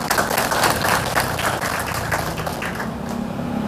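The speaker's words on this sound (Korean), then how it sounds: "중간중간 큰 박수와 함성으로 모두 함께해 주시길 부탁드립니다." Applause from a crowd at an outdoor rally opposing a waste incineration site in Suncheon, South Korea: dense, steady clapping that stays loud throughout the short stretch without any speech.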